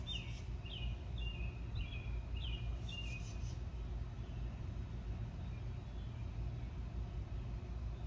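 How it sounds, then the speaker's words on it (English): Birds chirp outdoors in a few brief bursts near the start, over a steady low rumble of passing road traffic that continues throughout. "feel the sensation of hearing the birds"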